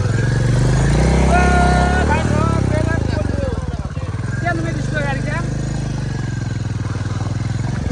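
A Royal Enfield Hunter 350 motorcycle stuck in water with its engine submerged revs loudly and unevenly, bogging down and churning, with people talking over the steady mechanical roar.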